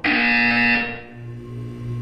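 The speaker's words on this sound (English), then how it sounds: "You will hear a buzzer." A loud electronic buzzer in Portal 2 sounds as one sustained harsh tone, then cuts off sharply near the midpoint, leaving a quieter low hum with a faint residual tone.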